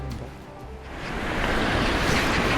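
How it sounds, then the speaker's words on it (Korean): Rushing water from a mountain valley stream beside the Wonbuchun valley trail on the Jirisan Dulle-gil section 15, a broad steady wash that swells louder and closer over a few seconds, with no voices. "계곡 물소리가"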